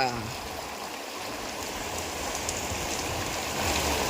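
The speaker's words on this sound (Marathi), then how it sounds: "हे बघा मस्त पाऊस आलेला आहे" Rain pours down steadily in a village, a dense, even hiss of falling water that stays loud and constant, with a voice briefly at the start.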